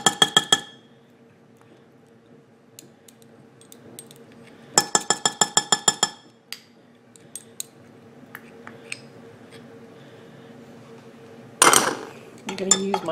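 A metal measuring spoon clinks and scrapes against a bowl while stirring corn syrup into a homemade paint mixture, with several short bursts of rapid tapping separated by quiet pauses, close up.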